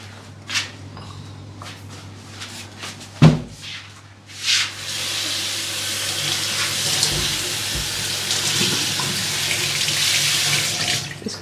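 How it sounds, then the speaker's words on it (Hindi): Tap water runs steadily into a kitchen sink while grapes are washed under it, a continuous close splashing flow with a few knocks and rubbing sounds early on, no talking. "ग्रेप्स अभी हम ब्रेकफास्ट में खाएंगे तो इसको धो करके मैं रख लेती हूँ।"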